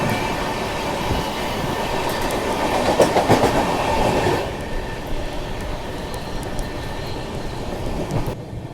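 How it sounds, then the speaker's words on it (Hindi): The Purushottam Express and a second train gather speed side by side, with loud rolling rumble, rhythmic wheel clatter and faint squeals, then the noise eases and thins toward the end. "ये पकड़ी दोनों ट्रेनों ने रफ्तार।"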